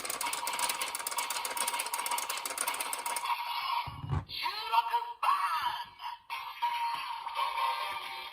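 A DX Geartlinger toy from Kikai Sentai Zenkaiger, cranked with the Zenkai Juron gear inserted on the hero side: a brief whirring crank, then bright electronic sound effects and a synthesized announcement call ringing out up close.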